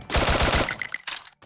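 A rapid, loud burst of automatic gunfire from the Garena Free Fire video game rattles for about half a second, then trails off into scattered fainter shots and echoes.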